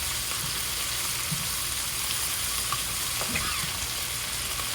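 Pre-cooked beef stir-frying over high heat in a chili stir-fry hisses in a steady, close sizzle, with a few faint clinks and stirring scrapes scattered through it.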